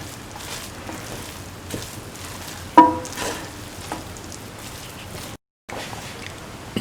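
Mung bean and carrot fried rice stirred in a pan, with a soft continuous sizzle, scraping strokes and one sharper clank of the utensil against the pan, briefly cut to silence near the end.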